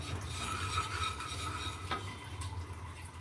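Coriander and cumin seeds are dry roasted in a pan, giving a soft, continuous scraping and stirring with faint sizzle and one light clink, close and quiet.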